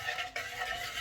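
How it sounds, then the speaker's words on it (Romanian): A caustic soda solution is stirred at a kitchen sink for soap making, a faint, steady swishing and scraping with no voices. "O să merg la ghiuvetă și amestec până se topește soda"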